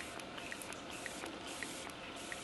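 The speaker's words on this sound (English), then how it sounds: "the setting spray is really good. So I'm just gonna give this a few sprays." A pump bottle of makeup setting spray gives a few quick, airy hissing puffs close by, soft and breathy over a quiet background.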